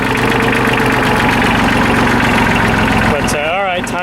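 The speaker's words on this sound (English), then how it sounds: "There's medium at idle." A Kioti CK27 compact tractor engine idles at medium throttle, a loud, close, steady knocking diesel rumble, with a brief whine or squeal rising near the end.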